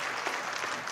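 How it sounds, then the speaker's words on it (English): Audience at a city State of the City and employee recognition ceremony applauding a staff member, a continuous dense wash of clapping from many hands, steady and fairly close throughout. "Should we give Paulina a round of applause?"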